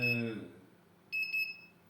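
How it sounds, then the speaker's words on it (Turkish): A high electronic buzzer tone from a microcontroller circuit sounds, fading out, then returns as two quick pulsed beeps, with a faint hum underneath. "buzzer'la birlikte ledimiz yanıyor. Ledimiz şey, buzzer'ımız ötüyor, ledimiz yanıyor."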